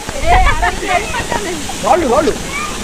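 Gandahathi waterfall in Gajapati district, Odisha, gives a steady rushing wash of water beneath lively voices of people talking and calling out nearby.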